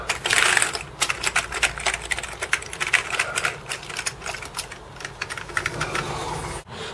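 Keys clacking on a Commodore Amiga A600 keyboard after reassembly during a repair, a quick irregular run of close, crisp plastic taps with brief pauses, no talking.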